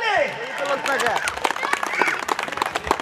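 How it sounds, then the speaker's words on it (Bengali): Applause from an audience at a gathering where a winner's name is announced, a dense patter of clapping mixed with cheering voices and talk, fairly loud and sustained for about three seconds. "করতালি।"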